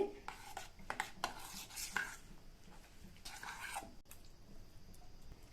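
Semolina being stirred with thick buttermilk in a bowl for wheat rava dosa batter, with several wet scraping and clinking strokes of a spoon against the bowl, close and fairly quiet, no talking.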